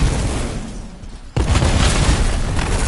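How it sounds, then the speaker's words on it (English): A deep, loud explosion in the video game Anthem bursts out suddenly, and a dense, rumbling roar continues after the blast. "It'll be a contained explosion."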